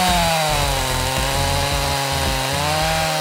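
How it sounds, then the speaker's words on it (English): A sharp chainsaw felling trees in a forest drones loudly and continuously up close, its engine pitch wavering slightly as the chain bites through wood. "With the flexibility of a sharp chainsaw, he continuously felled trees and collected wood quickly"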